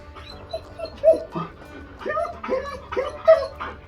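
A puppy whines and whimpers close by in short, high, wavering cries, several in a row with brief pauses between them.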